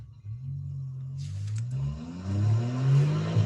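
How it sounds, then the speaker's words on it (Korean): A Maserati engine, driving straight, hums steadily, then its pitch climbs smoothly as it accelerates, growing louder toward the end. "직진 주행을 할 때 엔진 소리"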